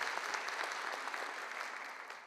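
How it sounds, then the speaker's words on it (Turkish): An audience applauds a speaker at a KOMEK ceremony, steady and fairly close, sustained dense clapping that eases off slightly toward the end with no talking. "Haşmet Okur Bey'e güçlü bir alkış istiyoruz"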